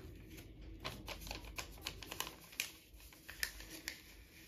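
Paper being folded by hand, heard as soft, quiet crinkles and irregular small taps and rustles close by.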